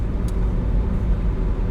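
A car drives through Corona, Queens, heard from inside the cabin with a dash cam running: a steady, fairly loud low rumble of engine and road noise throughout, with no talking.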